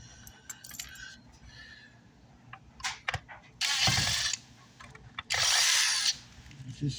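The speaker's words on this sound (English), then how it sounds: "I think 6 screws behind here guys that I'm going to have to remove." Two sustained bursts of a cordless power tool whine as it drives screws out of a burnt-out DS18 GFX 5K1 car amplifier chassis, each lasting under a second, close and loud, between small clicks and handling of parts.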